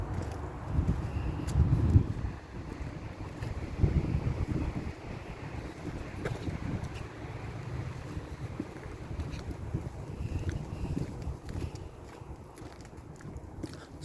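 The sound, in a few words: wind blowing on a hiking trail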